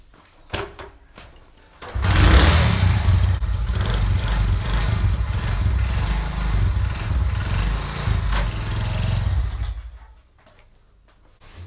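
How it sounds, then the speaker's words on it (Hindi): A Honda 70 motorcycle engine starts after a few faint clicks, then runs at a steady, loud, close idle with a ticking clatter for about eight seconds before cutting off. "मैं बाइक को स्टार्ट करता हूँ, उसके बाद मैं इसकी चेकिंग करता हूँ।"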